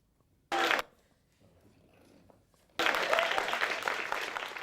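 A studio audience at a comedy show bursts into applause, first in a short loud clap burst, then after a quieter murmuring pause a sustained roar of clapping and cheering that continues to the end.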